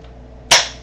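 A single sharp crack of a BB gun shot, loud and close, with a short bright decay after near-silence.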